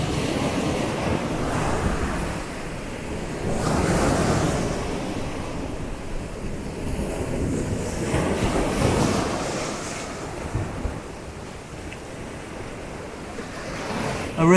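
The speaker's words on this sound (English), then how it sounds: "we've just made our way to the southern end of the beach. It's not that long, it's set in a very small cove" Surf rolls into a small cove at the southern end of Freedom Beach in Patong, Phuket, a steady wash of breaking waves with swells rising and falling, mixed with gusty wind noise and no voices.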